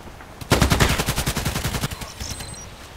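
A rapid burst of gunshots in the video game Contract Wars, a dozen or so quick close shots in a steady rattling rhythm lasting about a second and a half.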